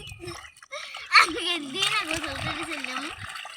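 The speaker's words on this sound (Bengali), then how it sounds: "এবার তোর প্যান্ট যে জায়গায় কাদা লাগছে সব জায়গা ধুয়ে ফেলা ভালো মতন।" River water splashes and sloshes close by as mud is washed off trousers, a steady watery churn running under a voice and other talk.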